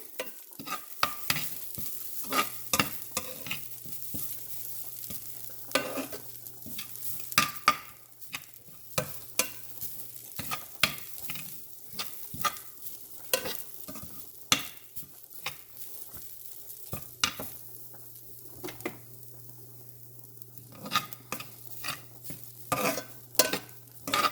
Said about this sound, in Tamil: தேங்காய் பூவும் நாங்கள் கலர் வாசம் மாறும் வரையும் வறுத்தமெல்லாம்